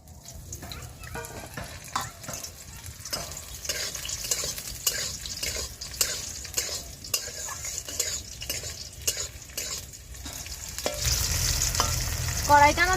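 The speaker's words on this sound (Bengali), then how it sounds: "কড়াইটা আমার 2 মিনিট ভাজা হয়ে গিয়েছে" Beans frying in a little mustard oil in a kadai, with steady rhythmic spatula stirring and scraping over a low sizzle, then a louder hissing surge of frying near the end.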